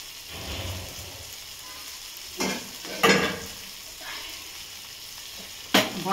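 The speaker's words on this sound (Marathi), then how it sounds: "सार फोडणीला घालते" Prawn curry is poured into a sizzling tempering and stirred, producing a steady frying hiss broken by a few sharp bursts of sizzle and scraping as liquid hits hot oil.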